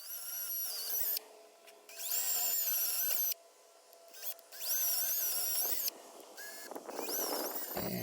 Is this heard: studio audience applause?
no